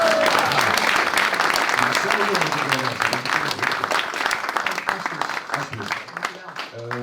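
A crowd applauding loudly at a Bildt culture prize award with hard, dense clapping, while people talk and a voice carries over the clapping as it tapers slightly.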